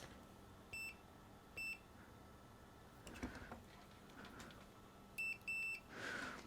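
A multimeter set to continuity mode on a GM 6.5L diesel pump-mounted driver gives short, faint electronic beeps, two early and a pair later, among soft handling clatter.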